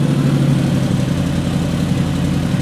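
A motorcycle engine idles steadily while warming up, giving a continuous, fairly loud low rumble with an even pulse throughout and no voices over it.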